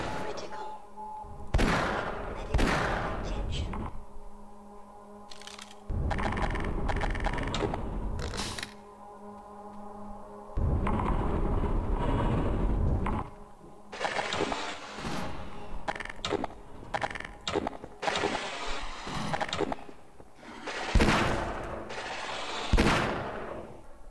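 Bursts of gunfire and clattering mechanical noises in the video game Half-Life: Source come in irregular clusters, with brief gaps between loud volleys.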